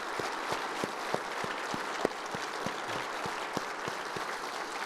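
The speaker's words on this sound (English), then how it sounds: "please join me in a round of applause" Steady applause from a large audience at the opening session of a nuclear regulatory conference, with dense clapping and a few louder individual claps standing out, carrying on evenly throughout.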